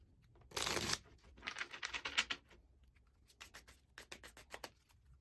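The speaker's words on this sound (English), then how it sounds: "let's give the cards a shuffle" Tarot cards being shuffled give quiet papery riffles and flutters in short bursts, then a run of soft rapid taps, faint and close with no talking.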